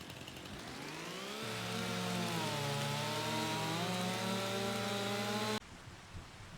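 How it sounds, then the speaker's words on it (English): A chainsaw in a logging roleplay video game revs up and cuts through wood in a steady, loud, sustained whine that holds for several seconds before stopping abruptly. "So get the chainsaw out."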